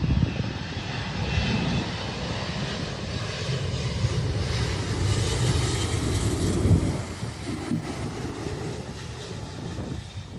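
An airplane flies past overhead, its engine roar loud and continuous, swelling slightly mid-pass before easing off, with no voices over it.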